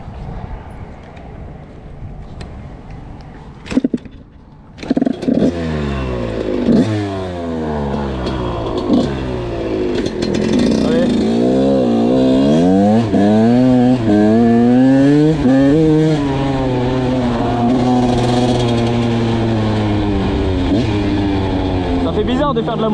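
A motorcycle on dirt trails revs up close and loud, its engine pitch climbing and dropping repeatedly through gear changes, then settling into a sustained high-revving drone with some voices in the mix.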